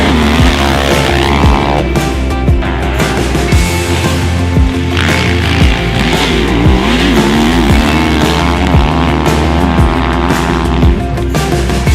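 A 2022 Kawasaki KX 450 dirt bike is ridden hard, its engine revving loud and continuous with rising and falling pitch as the rider works through the gears.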